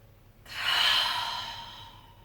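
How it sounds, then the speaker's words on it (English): One long, deep yoga exhale follows a sudden start, a close, breathy rush of air that swells and then fades slowly, with no voice over it. "big breath in, really filling those lungs, filling that belly. Exhale."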